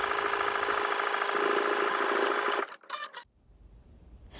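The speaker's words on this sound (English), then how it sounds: "you want to stitch again, but 1/4 inch away from the seam allowance" A sewing machine stitches a sleeve band seam with a loud, close, steady mechanical whir. The stitching stops abruptly with a few clicks and faint handling noises.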